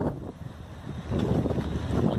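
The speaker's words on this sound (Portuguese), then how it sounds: "tá uma ventania aqui que eu vou falar uma coisa" Strong wind buffeting the microphone at the seashore on Mykonos, a dense roaring rumble that swells louder in the second half, with no voices.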